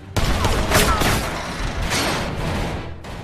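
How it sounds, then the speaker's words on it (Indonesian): Heavy gunfire exchange from The Expendables action film, a loud dense barrage of shots and booms with echoing reverberation, close and continuous over a few seconds. "Barney dan Jin saling adu tembak."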